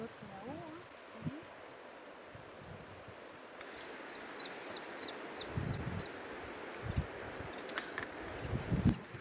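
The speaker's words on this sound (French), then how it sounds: "Les oiseaux même sont tout autres là-haut." Birds call from the wild coastal cliff path, a quick run of about eight high, evenly spaced chirps in the middle, set against steady wind, with a few soft nearby rustles.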